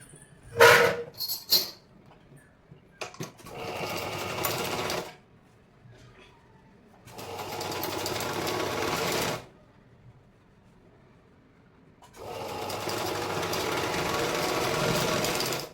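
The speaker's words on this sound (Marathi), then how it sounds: "तर चला आता आपण याला टीप देऊन घेऊया" A sewing machine runs in three long bursts of steady whirring stitching a blouse seam, close and fairly loud, separated by pauses and a few clicks of handling, with no talk.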